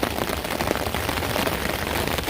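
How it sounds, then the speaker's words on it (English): Steady rain pours onto a tent during a thunder and lightning storm on a mountaintop in the Three Sisters Wilderness, a dense, continuous patter that stays loud and close for the whole stretch, with no talk. "Listen to this rain."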